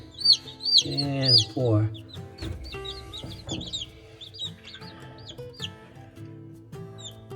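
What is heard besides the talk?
newly hatched baby chicks cheeping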